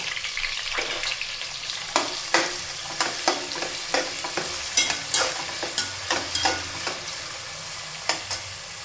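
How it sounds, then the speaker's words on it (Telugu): Chopped onions and green chillies frying in hot oil in a pressure cooker for gonguura chicken, a steady sizzle with repeated sharp scraping strokes of a spoon stirring every second or so, close and alone. "మనం తరిగి పెట్టుకున్న ఉల్లిపాయ ముక్కలు కూడా వేసేసుకుందాం"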